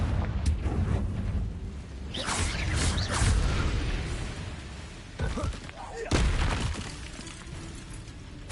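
Spell blasts from Confringo fire in the Hogwarts Legacy video game, a series of booming thuds and bursts amid busy combat noise, with a voice talking over much of it.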